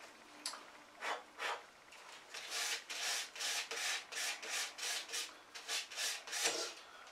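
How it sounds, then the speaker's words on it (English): A sponge dabs paint through a stencil onto a wooden project, a quiet close-up series of about a dozen soft, scratchy pats in an uneven but steady rhythm. "when using a stencil, you use your sponge, you use just a little bit, dab it on your paper a couple times before you start"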